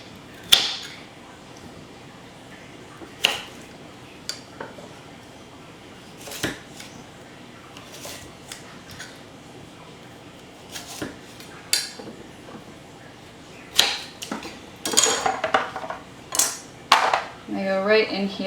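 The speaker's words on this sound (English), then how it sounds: "And I chop them into slices." A knife slicing vegetables on a cutting board, with sharp, irregular chops spaced apart early on, then quicker clustered cuts toward the end, close and fairly quiet.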